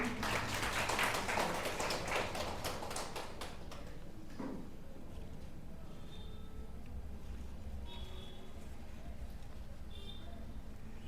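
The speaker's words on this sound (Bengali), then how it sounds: "হাততালি দিয়ে ওনাদেরকে অভিনন্দন করুন।" An audience applauds guests seated on stage at a teacher award ceremony in an ashram: dense clapping for about four seconds, fading quickly into a quiet hall with a few faint clicks.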